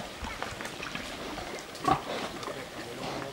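Iberico pigs roaming a pasture give off scattered low grunts and snuffling against steady outdoor background noise, with one louder grunt near the middle.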